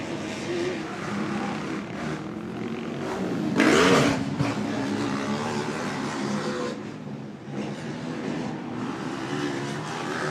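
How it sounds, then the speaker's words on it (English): ATV quad racing engines rev and fall constantly as the throttle changes at a motocross track, with a loud burst partway through and no talk. "You can hear in the note of the engine just how much the revs are constantly changing due to different traction levels"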